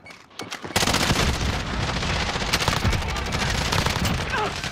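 A frag grenade goes off in Call of Duty Rebirth Island, a loud blast followed by dense, sustained rattling gunfire and booms filling the rest of the moment.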